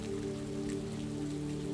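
Steady rain falling as a calm sleep ambience, a soft continuous patter at an even level with a low steady hum beneath it, no voices.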